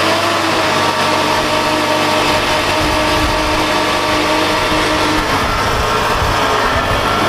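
The DC70G's engine runs in reverse gear with a loud, steady, unbroken drone that stays close and constant throughout.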